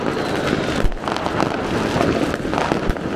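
New Year fireworks going off across Munich, a dense continuous crackle and hiss with scattered sharp bangs, one louder pop near the start and another near the end, under wind rumble, close and loud throughout.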